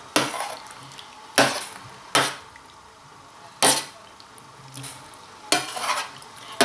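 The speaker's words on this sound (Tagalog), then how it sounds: "So, haluin lang natin ito." Beef adobo simmering with coconut milk in a pot is stirred with a utensil, giving several loud scraping knocks against the metal at irregular intervals over a soft bubbling background, close and with no talk.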